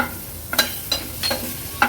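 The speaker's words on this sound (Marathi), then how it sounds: "हळद आणि मसाला पण छान तेलावर आपल्याला परतून घ्यायचंय आहे" Turmeric and homemade Agri Koli masala sautéing in hot oil make a soft, steady sizzle, broken by a few quick scrapes of a spoon stirring in the pan.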